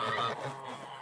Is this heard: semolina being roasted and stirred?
no